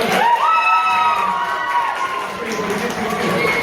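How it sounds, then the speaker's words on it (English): Children's audience at a live spooky children's book reading cheering, whooping and clapping for a girl named Elle, a loud continuous crowd roar with high shouted voices and a rising whistle-like whoop near the start. "So, a round of applause for Elle"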